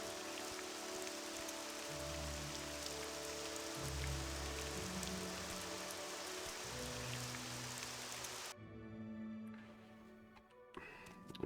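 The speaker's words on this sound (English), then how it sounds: "It's also raining." Steady rain in the video game Morrowind, a broad even hiss of falling drops with faint low tones underneath, continuing for several seconds and then cutting off abruptly near the end, leaving quieter ambience.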